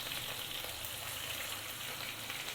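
Onion paste going into tomato frying in oil gives a dense, steady sizzle, close and continuous, with no voices.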